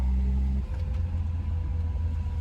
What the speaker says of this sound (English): Again, plenty of power, that 6-cylinder engine.